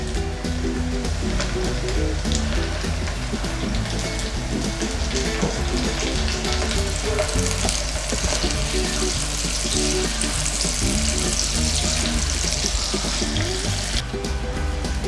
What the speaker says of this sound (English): Now I'm going to add my dry prawn.